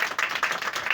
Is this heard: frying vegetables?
no